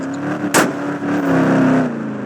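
A truck-like vehicle in a homemade video game revs and accelerates through its gears toward fifth, a steady droning engine tone climbing in pitch with a brief sharp click near the start.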